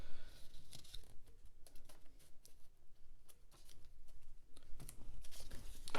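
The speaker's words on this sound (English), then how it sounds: "I cut this little stripe off." Scissors trimming a small paper stripe off a piece for an abstract collage, heard as a series of quick close crisp snips and rustles with no talking.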